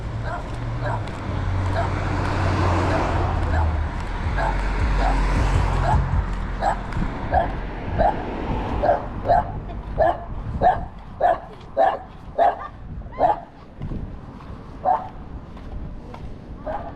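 A dog barks outdoors on a city riverfront walk, first faint and distant under traffic and wind noise, then a steady run of about a dozen evenly spaced, fairly loud barks.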